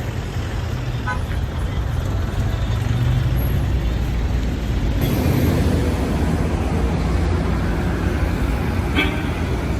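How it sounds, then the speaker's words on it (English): Busy, loud street traffic in Cairo: a continuous roar of cars, buses and trucks with occasional horn toots. A brief higher whine appears partway through, over constant road noise. "you can hear the traffic. It's so loud and so crazy."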